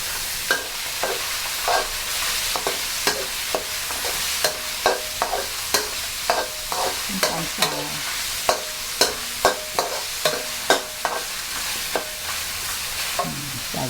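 Bean sprouts stir-fried with minced pork, oil, oyster sauce, soy sauce and sugar, a fast rhythmic series of spatula scrapes and clacks against the wok over a continuous sizzle, close and steady throughout.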